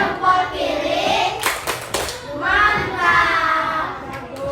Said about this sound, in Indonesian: sekarang tepuk jempol, jempol kanan, jempol kiri